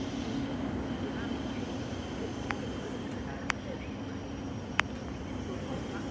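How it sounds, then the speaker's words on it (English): Thameslink train rolling into platform 4 at Stevenage station, a steady low rumble and hum of the approaching units with a few sharp squeaks or clicks over the top. "And we have another Thameslink service on platform 4 to somewhere"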